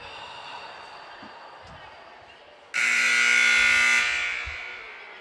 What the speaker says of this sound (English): for those of you that couldn't hear, that was the buzzer